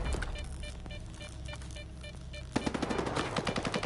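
Automatic gunfire in S.T.A.L.K.E.R. 2 crackles steadily at a distance, then becomes louder and sharper near the end as rapid bursts of shots come in quick succession.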